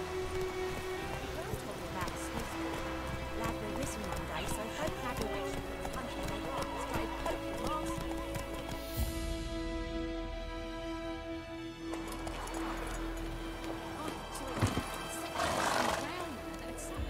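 Hooves of Geralt's horse Roach pound steadily through the open world of The Witcher 3 on Switch, mixed with neighs, background game music and a voice speaking.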